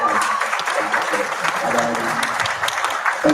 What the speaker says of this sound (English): So another round of applause for him.